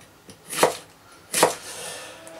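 Kitchen knife, a Miza Druid, chopping food on a board: two crisp, close chops about a second apart over a quiet background.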